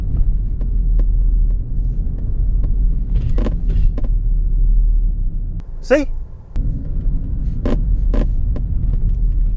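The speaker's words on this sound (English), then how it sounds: "They could put a little, I don't know, a little Alcantara piece on the side or a leather bit on the side to stop it rattling and banging so much." A seatbelt buckle rattles and bangs inside an Alfa Romeo Stelvio Quadrifoglio on bumpy roads: a few sharp, scattered knocks over a steady low cabin and road rumble, with one brief spoken word from a nearby voice.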